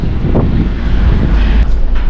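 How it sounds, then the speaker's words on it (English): Cold wind gusting across the upper open deck of the P&O Arvia cruise ship, a steady loud low rumble of buffeting against the microphone with no speech. "this morning it's rather cold and windy"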